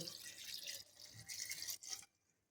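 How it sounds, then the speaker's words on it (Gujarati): Water pours into an airtight jar holding mango ginger and fresh green turmeric, a close splashing and gurgling stream lasting about two seconds before stopping, with no talk. "તો હવે આપણે એમાં પાણી નાખીશું"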